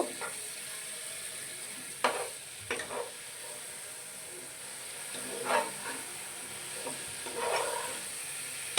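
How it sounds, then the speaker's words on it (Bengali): Chicken pieces frying with spices in a pan for a Bengali chicken bhuna, a soft continuous sizzle broken by a few sharper scraping stirs near two, five and a half and seven and a half seconds. "আমি মশলাটা মাংসের গায়ে লাগা পর্যন্ত ভাজতে থাকবো।"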